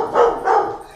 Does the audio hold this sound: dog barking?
yes